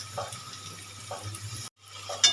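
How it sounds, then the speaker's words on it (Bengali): Chowmein sauce of tomato and soy being stirred in a pan, with soft scraping and light sizzling strokes repeating at a steady pace, close and moderately quiet, with a brief dropout near the end. "দিয়ে একটু নেড়ে চেড়ে নেব"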